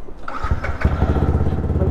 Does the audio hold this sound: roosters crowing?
no